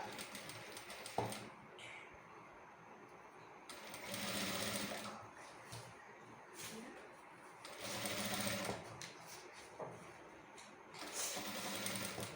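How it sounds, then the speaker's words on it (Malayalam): A sewing machine stitches piping fabric onto a tulip-style sleeve, running in several short bursts of rapid, steady mechanical whirring and clatter separated by brief pauses, fairly close and moderately quiet. "എന്നിട്ട് ജസ്റ്റ് നമുക്കൊന്ന് സ്റ്റിച്ച് ചെയ്ത് കൊടുക്കാം"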